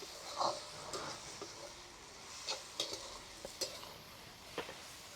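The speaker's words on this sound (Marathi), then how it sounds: "हे सर्व छानपैकी मिक्स करून घेऊ" A spoon stirs salt into a dried prawn and brinjal mixture in a pan, giving faint scattered scrapes and clinks over a soft sizzle.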